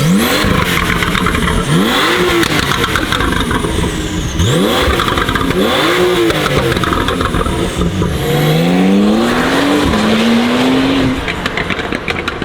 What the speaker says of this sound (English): That's what a 911 2022 sounds like with downpipes and a G exhaust cat back